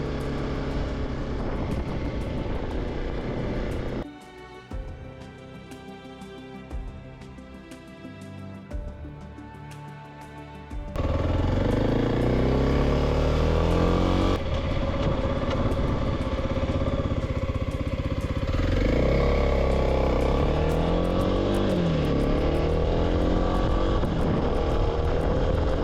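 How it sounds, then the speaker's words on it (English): A Kawasaki KLX300 dual sport motorcycle fitted with a 13-tooth front sprocket idles and pulls away, its engine note rising and falling through gear changes, loud and close with wind buffeting once riding. "quick ride in and see what it feels like"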